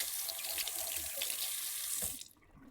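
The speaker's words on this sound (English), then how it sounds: "let's wipe our hands. Let me wash." Tap water runs steadily into a kitchen sink during handwashing, a loud continuous splashing hiss that cuts off abruptly near the end.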